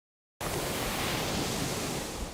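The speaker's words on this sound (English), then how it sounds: "Waves look calm Monday at Stewart Beach, but they could double or triple in size by Wednesday morning." Ocean waves and surf at Stewart Beach, under a building hurricane swell on the East Coast, give a steady broadband wash of roaring water that starts abruptly and holds constant at moderate loudness.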